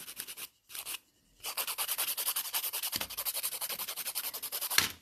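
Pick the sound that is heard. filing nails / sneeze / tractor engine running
filing nails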